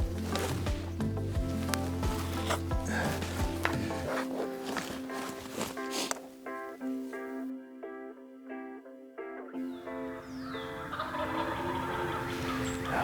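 A wild turkey in the woods during a bow hunt gobbles in loud rattling bursts, with rustling and footstep-like crunches on leaves around the calls and quieter stretches between them.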